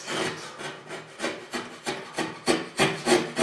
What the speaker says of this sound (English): Let's see if it's loosened it up enough for my razor blade to work a little better.